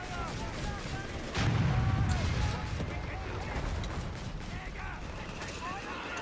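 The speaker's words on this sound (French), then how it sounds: "ils ont sorti des saloperies d'artillerie de merde" Artillery and gunfire in a Company of Heroes 3 battle in the woods, scattered booms and mechanical clatter with a heavier rumbling burst early on, mixed with game effects under ongoing voices.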